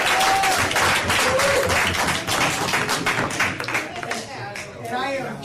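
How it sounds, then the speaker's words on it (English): Dense, loud applause from an audience at a recovery support group meeting, with fast overlapping claps filling the room and gradually thinning toward the end, with a few voices mixed in. "we owe Adam Custer a huge round of applause because this is the guy that hangs everything up in here"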